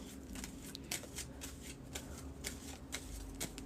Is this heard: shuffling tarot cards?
yes